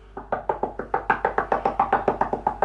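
Knuckles rap steadily on the body of a fake Gibson Les Paul electric guitar, a run of about fifteen quick hollow knocks in an even rhythm, close and alone.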